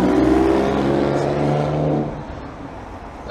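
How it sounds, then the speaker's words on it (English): A car rumbles loudly past on a busy main road outside a pub, its engine drone close and steady for two seconds before fading into softer traffic noise. "let all the cars go by."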